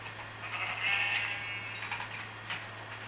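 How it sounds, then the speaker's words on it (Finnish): A sheep bleats in the Minecraft video game, a single wavering bleat in the middle of a steady background hum, moderately loud and alone with no talking over it. "Se oli kohtalosi lammas, tuli eteen."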